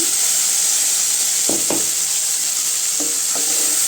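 Onions and tomatoes sautéing in a pan for drumstick-leaf sambar, a steady bright sizzle throughout with a few short stirring scrapes of the spatula near the middle and end.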